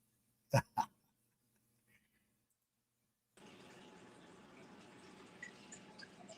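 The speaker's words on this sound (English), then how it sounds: "I hear your tanks bubbling" Aquarium fish tanks bubbling with a steady, dense fizzing wash that begins partway through and continues, preceded by a couple of sharp knocks and near silence.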